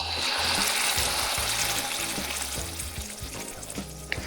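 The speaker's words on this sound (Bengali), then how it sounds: "এবার চুলার আঁচ মিডিয়ামে রেখে তেলের সাথে পিউরে মিশিয়ে নেব" Tomato puree with Kashmiri chilli powder cooking in hot oil in a pot for homemade momo sauce and chilli oil, a steady close sizzle with soft scraping stirs underneath, continuous and alone without talk.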